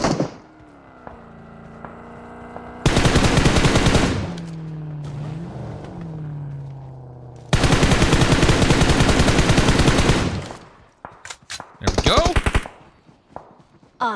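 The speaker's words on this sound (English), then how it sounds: "Got shots in the distance." Gunfire in PUBG Mobile comes in long, dense bursts of rapid machine-gun shots, loud and repeated several times, with someone talking between them.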